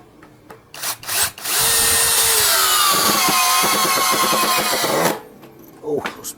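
A Blackfoot 21V impact drill on speed setting 2 drives a screw into a meranti wood beam, a close, loud whirring burst of about three and a half seconds with rapid rattling, framed by short clicks and handling noise.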